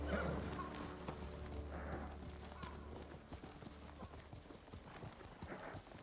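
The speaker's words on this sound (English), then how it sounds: "that's quite a nice horse Shimura's got" Horse hooves clip-clop at a steady walking rhythm in the video game Ghost of Tsushima, close and clear over a low droning score, with a brief neigh and faint game ambience.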